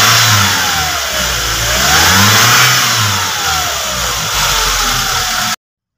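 Close by, a Toyota HiAce engine that runs on both fuel and LPG revs up and down several times over a rough idle, then cuts to silence.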